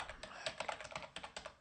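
Quick, light keystrokes tap out a command on a computer keyboard, a close, fast run of soft clicks in a quiet room.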